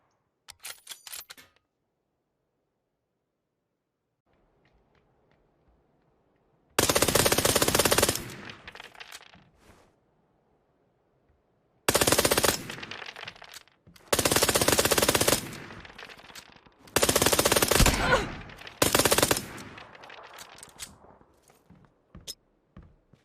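Bursts of rapid automatic gunfire from the mobile battle-royale game PUBG Mobile, several sustained volleys separated by short quiet gaps, loud and close, with little talk.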